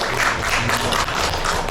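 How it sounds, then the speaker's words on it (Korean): Audience applause at a volunteer-service policy forum in Suncheon, a steady dense patter of many hands clapping throughout, fairly close, with no speech over it. "우리 김이나 원장님한테 박수 한번 부탁드립니다."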